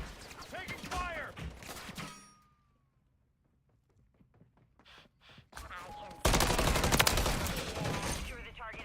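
Video game gunfire: loud bursts of rapid shots, then a near-silent pause with scattered faint clicks and pops, then a sudden return of heavy, sustained firing.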